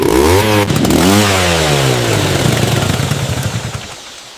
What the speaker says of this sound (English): Looks like this old motorcycle can still scream